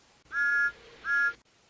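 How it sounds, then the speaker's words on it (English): A railway guard blows his whistle at a steam train departure, two short, shrill, clear blasts with a brief gap between them, close and alone. "The guard blew his whistle"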